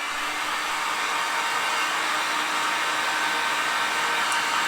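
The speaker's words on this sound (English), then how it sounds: "We're gonna go ahead and put our heat gun on it." A heat gun blows steadily on a freshly painted aged pot, making an even, continuous airy roar that stays close and constant throughout with no talking.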